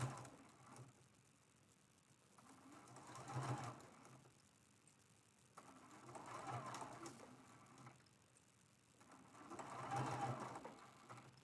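A sewing machine stitches down a star shape on a quilted mug rug, with three distinct bursts of rapid mechanical whirring separated by quieter pauses, close up and fairly soft.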